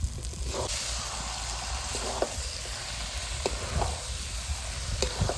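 Chicken meat dropped into hot spiced oil for a Bengali chicken kosha, giving a loud, continuous sizzle and hiss with occasional stirring scrapes and clinks throughout.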